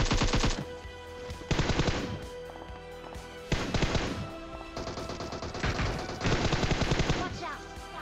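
Loud bursts of automatic rifle fire in PUBG Mobile, several rapid volleys separated by short pauses, with echoing shots trailing between them.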